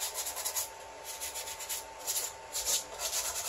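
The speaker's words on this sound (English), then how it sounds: "Gone down to the original wood with just a little bit of that 150 grit sandpaper" Chalk-painted wood being sanded back to bare grain with 150 grit sandpaper, a close, steady rubbing rasp in quick back-and-forth strokes.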